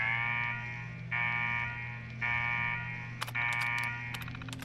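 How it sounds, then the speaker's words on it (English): A pulsing electronic alarm blares in a Fallout 4 Nuka World game scene, its harmonic buzzing tone repeating in roughly one-second bursts over a steady low hum, with sharp clicks and bleeps breaking in toward the end. "What the hell is that alarm?"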